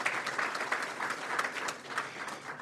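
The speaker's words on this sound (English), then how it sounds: "let's go ahead and give them a round of applause" An audience at a city council meeting gives a round of applause, a moderately distant, even patter of many hands clapping that runs throughout with no speech over it.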